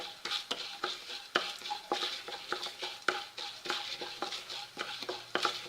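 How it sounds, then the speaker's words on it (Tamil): Masala for brinjal curry roasting slowly over low heat in a pan, stirred continuously with rhythmic scraping and clinking strokes over a soft sizzle, close and fairly quiet. "கொஞ்சம் பொறுமையாக வறுத்துட்டா நல்ல கலர் நல்லாயிருக்கும் பார்க்குறதுக்கு. கைவிடாமல் கிளறுனா போதுங்க"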